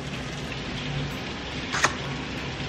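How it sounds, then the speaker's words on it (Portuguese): Steady rain falls with a constant soft hiss heard from indoors, broken by one brief sharper tap near the end. "Olha a chuva."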